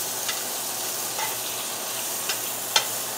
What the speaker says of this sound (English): Let this butter start to melt and foam